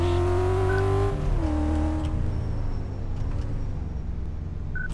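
A V6 car engine in the racing-and-repair game Car Mechanic Simulator 2014 drones loudly at high revs, its pitch sliding down once and then holding steady, with no voices.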